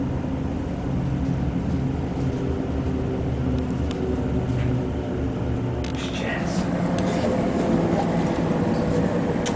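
Continuous rumble and rattle of a train in motion, heard from inside, with brief squeals and clatter as it slows toward Selly Oak station in Birmingham.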